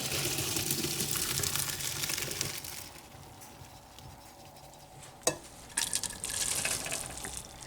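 Boiled Kraft macaroni is drained of its cooking water, a close rushing pour and splash that eases off midway, followed by a sharp metallic knock and a few clattering bumps.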